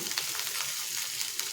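Golden-browned onions, melon seeds and coriander stems sizzle in hot oil while being stirred in a pan, a steady close crackle with soft scraping strokes.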